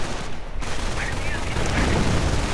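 Artillery fire in a World War II real-time strategy game, a continuous busy rumble of distant shelling and bursts running under a commentator's voice throughout.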